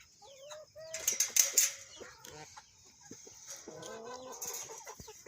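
Chickens in a backyard coop, roosters among them, cluck and squawk at close range while wings flap in a sudden flurry, followed by quieter scattered clucks and rustling.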